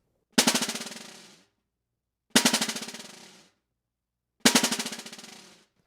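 Three separate bouncing stick strokes on a practice pad, each a rapid series of individual rebounds that quickly fade, with pauses between them.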